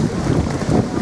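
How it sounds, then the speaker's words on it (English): Wind buffeting an outdoor microphone, a steady low rumbling roar with gusty swells that fills the whole second and never drops away. "Windy out here"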